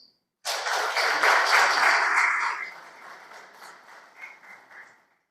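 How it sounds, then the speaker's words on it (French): A ceremony audience bursts into warm applause all at once, loud and full at first, then thinning out and fading as the claps die down over a few seconds. "je vous demande de les applaudir chaleureusement"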